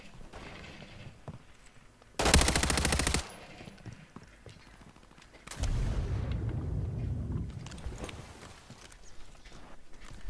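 Gunfire in the Call of Duty Warzone video game: a burst of rapid shots, then a longer stretch of sustained firing and clatter, heard over quieter game ambience.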